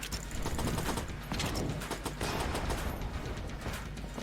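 Rapid bursts of boss gunfire and bullets fill a fight in the Enter the Gungeon video game, crackling in a dense, continuous barrage over a low rumble at moderate volume.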